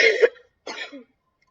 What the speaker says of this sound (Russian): Извиняюсь, кашляю